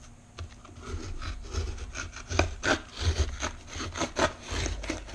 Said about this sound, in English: the serrated is going to do a great job on some cardboard